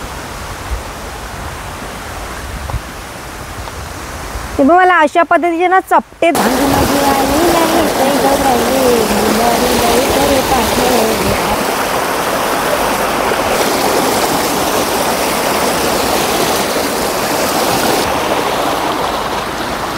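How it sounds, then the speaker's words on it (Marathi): Swollen stream rushing forcefully after a day of rain, a loud steady broadband roar heard close up throughout, with someone talking over it near the middle. "माझ्या मागे झरा आहे, पाऊस कालच थांबलाय जरासा, त्याच्यामुळे ना खूप सारं झऱ्याला पाणी आहे आणि एकदम जोरात आणि फोर्सने पाणी आहे"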